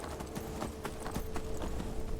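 Horse hooves clip-clop in a steady galloping rhythm over a dense game soundscape while riding to Windhelm in Skyrim.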